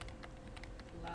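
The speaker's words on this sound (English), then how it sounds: "Loud keyboard." Rapid clicking of a loud computer keyboard, a dense run of sharp keystrokes at fairly close range under low background hum.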